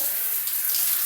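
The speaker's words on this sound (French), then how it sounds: "j'allume l'eau" Shower water runs steadily as it rinses a body, a continuous close hiss of spray and splashing with no pauses.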